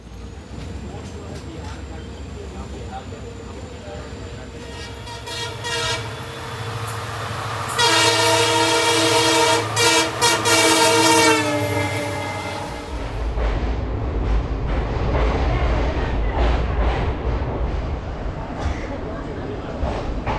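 A loud, sustained train horn blares over rumbling rail noise as a Garib Rath special train rolls into Guwahati station, then the heavy low rumble of cars continues after the horn stops.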